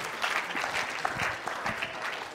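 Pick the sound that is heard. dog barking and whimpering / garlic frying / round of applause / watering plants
round of applause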